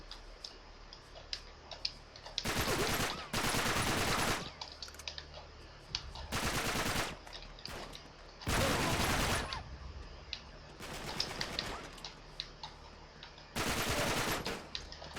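Automatic gunfire from a favourite gun in the action game Uncharted 3 comes in five or six loud, sustained bursts of rapid shots, each lasting about a second, separated by quieter background game sound.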